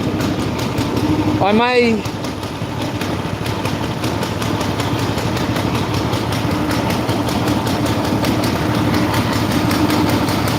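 Chainsaw engine idling roughly in the cold during a winter firewood session, a steady close mechanical drone throughout, with a brief voice near the start.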